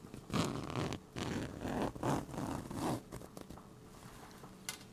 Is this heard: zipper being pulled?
yes